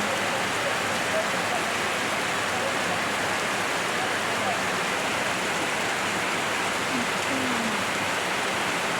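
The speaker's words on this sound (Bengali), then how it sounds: "মনে হচ্ছে না বৃষ্টি থামবে।" Steady rain pours down outdoors during a monsoon shower, a dense, even hiss of falling water with no breaks, close and moderately loud, with faint hints of voices beneath it.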